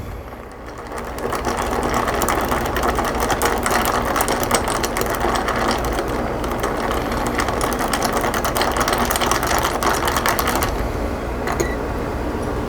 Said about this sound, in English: put some creamer. I'll stir it with the straw.